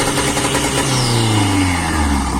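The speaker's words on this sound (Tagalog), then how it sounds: "Bukod dito ay magandang tunog, aggressive at yung tipong mapapalingon ka talaga pag narinig mo itong hood exit exhaust." A turbocharged car engine revs loudly through a hood exit exhaust, climbing and falling in a sustained aggressive roar, close and alone without voices.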